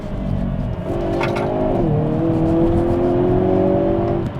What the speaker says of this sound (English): the downshifts are very quick.